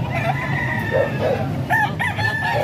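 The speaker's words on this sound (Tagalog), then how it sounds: "Manok to din." A rooster crows and clucks at a market, with several short calls repeating over steady crowd background noise.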